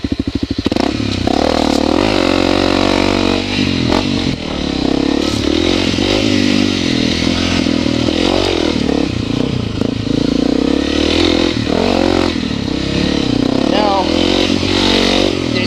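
Honda CRF250L dual-sport motorcycle engine running loud and close throughout, with engine pitch rising and falling as it revs, plus some clattering, while someone talks over it.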